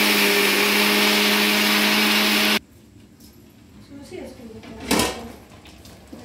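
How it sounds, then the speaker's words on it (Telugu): A mixer grinder powders fenugreek and mustard seeds for a tomato pickle, running loud and steady for about two and a half seconds before stopping abruptly, followed by quieter kitchen handling sounds and a brief clatter. "మిక్సీ పడుతున్నానండి."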